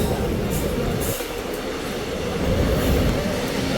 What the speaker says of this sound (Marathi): सामन्यानी ट्रेन येत आहे आपली